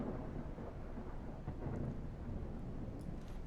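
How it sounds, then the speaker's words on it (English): Thunder rolls in a continuous deep rumble over steady heavy rain during a thunderstorm at sea in the Nautic XP video game, loud and unbroken throughout. "I just went with a thunderstorm."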